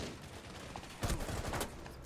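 Gunfire in the video game Rainbow Six Siege, a short cluster of rapid, sharp shots bursting out after a quieter stretch, heard fairly close without speech.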